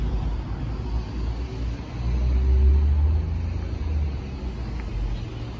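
Highway traffic passes beside a mosque and market area in Madinah near Masjid Quba, a steady low rumble of cars with a swell of a passing vehicle midway, moderately near, with no voices.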